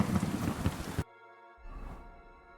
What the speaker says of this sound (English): It was a nice little brief storm.